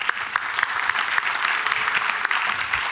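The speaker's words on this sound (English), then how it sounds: "please give him a warm round of applause for that" An audience at a MoneyShow University keynote claps steadily throughout, a dense, even burst of applause filling the room with no talking over it.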